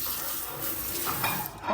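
Water from a swiveling pull-down kitchen faucet sprayer hisses steadily for a couple of seconds, close and moderately loud, swelling slightly near the end with no talking.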